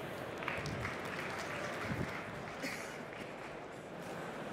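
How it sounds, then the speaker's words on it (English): Audience applause in a large hall at a startup pitch event, a steady broad wash of clapping that stays fairly even throughout, with no voices over it. "Give a huge round of applause for Clypp."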